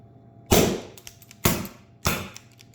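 Three sharp, loud shots from a Pepperball TCP less-lethal launcher running on CO2 or nitrogen, each a sudden burst of air with a short decaying tail and light rattle. The shots are close and spaced unevenly, about a second apart, with no talking.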